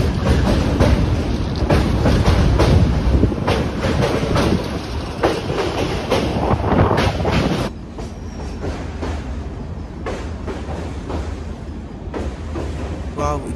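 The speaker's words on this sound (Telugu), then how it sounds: "సో ఇక్కడ ఈ టూ ట్రైన్స్ మీట్ అయ్యాయి." Two passenger trains pass each other on the Bangalore–Mangalore line through the Western Ghats in monsoon season: a loud, close rush of rumbling wheels and rhythmic clickety-clack, easing to a quieter running rumble partway through.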